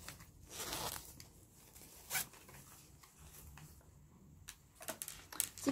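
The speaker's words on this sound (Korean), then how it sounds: "이제 지퍼를 다시 내려주세요" A console zipper is pulled down along fabric during sewing, producing quiet raspy zips and small ticking clicks in bursts.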